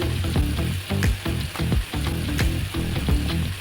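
Onion and tomato masala with ginger-garlic paste sautéing in a pan for Kerala-style fish polichathu, rhythmic spatula scrapes over a steady close sizzle, no talk.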